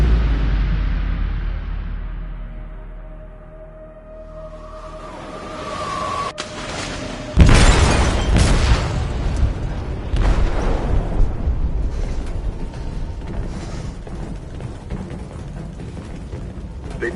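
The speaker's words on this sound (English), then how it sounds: "They detonated an explosive in the hold." An explosive detonates in a ship's hold in Detroit: Become Human: a low drone and falling tone give way to one sudden loud blast, followed by a long roaring, crackling rumble as the vessel begins sinking.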